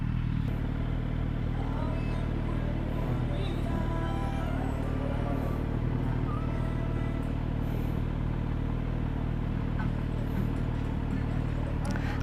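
Heavy late-afternoon road traffic in Houston, Texas, heard from a motorcycle: a constant dense rumble of engines and passing vehicles with occasional revving, steady and fairly loud throughout.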